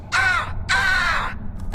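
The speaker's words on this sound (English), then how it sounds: "Crows." Two loud, harsh crow caws in quick succession from the League of Legends Fiddlesticks trailer, close and clear, each rasping call lasting about half a second, with no talk.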